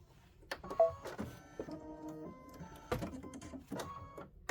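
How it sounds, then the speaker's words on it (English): A ScanNCut machine working on a flower outline gives off short, irregular mechanical whirs and buzzing movements with brief pauses between them, heard close and alone without any voices. "let it just stitch. 10 minutes of stitching, it's going to do the outline"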